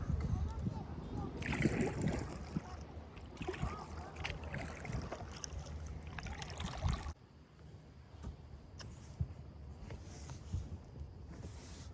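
A canoe is paddled on water at a state park, with soft splashes and sloshing strokes under close-up talk, louder during the first half and quieter after a sudden drop.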